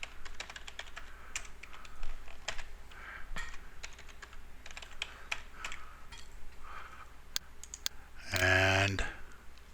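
Keys clatter in quick irregular bursts as a password is typed on a computer keyboard, near and fairly quiet, ending with a louder burst of clicks near the end.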